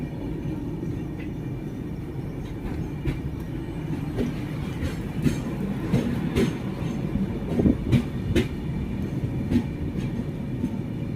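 A moving passenger train heading toward Mangalore, heard from inside a wagon: a continuous low rumble with rhythmic clickety-clack of wheels over rail joints, steady and close.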